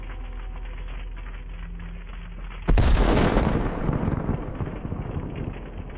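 A precision HIMARS strike hits a Russian convoy: after a few quiet seconds, one sudden loud blast erupts and then fades into a long, rolling rumble.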